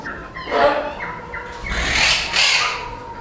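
Ara macaw parrots give harsh, raspy squawks in a series of loud, close calls, some short and some drawn out, with no talking.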